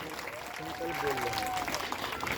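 An audience claps to welcome a guest at a Bhagavat Katha religious gathering, the applause steady and moderately loud beneath someone speaking over a microphone.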